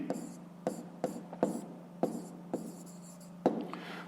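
Chalk or marker tapping and scraping on a classroom board during a 5th-grade math lesson, in a steady series of short, crisp strokes about half a second apart, close by with faint room hum underneath.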